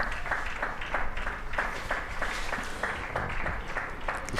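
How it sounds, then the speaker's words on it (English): Steady crowd applause at a county championship cricket match between Glamorgan and Derbyshire, a moderate rippling clatter of many hands held evenly across the whole stretch, heard at a distance with no talk over it. "Listen to that applause."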